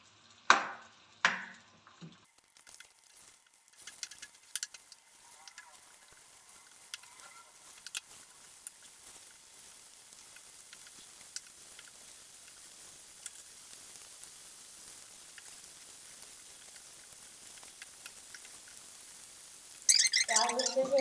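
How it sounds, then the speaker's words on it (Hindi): Onion sizzling as it fries in a pan while chicken gobi is being cooked, a low steady crackle running throughout after a few sharp clatters at the start, with a louder burst near the end. "अच्छे से हम इसको फ्राई करेंगे जब तक कि गोल्डन नहीं हो जाता"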